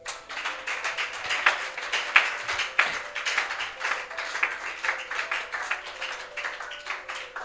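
Church congregation clapping together in sustained, fairly even applause, a dense steady patter of many hands with a few sharper claps standing out, continuing throughout without a break.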